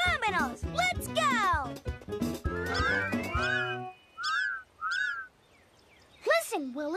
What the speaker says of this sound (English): Listen, Willie, that's your whistling duck family.